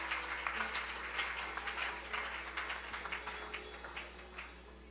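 A church congregation clapping and cheering for the Lord, a steady wash of applause that swells in bursts and carries on loud and continuous throughout, with no speech over it.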